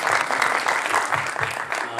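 Sustained applause fills the room at a Nepali movie song release event for the film Senti Virus, loud and continuous with a few voices mixed into the crowd.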